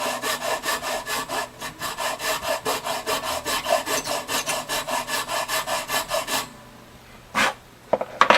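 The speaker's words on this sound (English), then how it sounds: "So I've got the new tusk nut in. I'm going to have to file the slots down a little bit." A file rasps rhythmically across the slots of a new tusk nut on an extremely old Gibson jumbo acoustic guitar, about two dozen quick even strokes up close, then a pause with a couple of scattered scrapes and taps.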